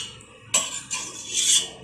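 A utensil mashing cooked sweet potato in a pot: a few sharp metallic scrapes and clinks, close and moderately loud, with a brief pressing, squelching scrape toward the end.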